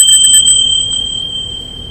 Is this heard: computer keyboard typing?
no